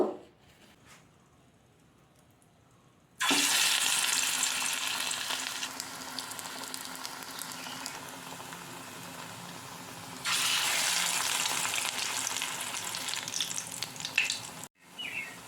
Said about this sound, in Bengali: আমি ভেজে নেব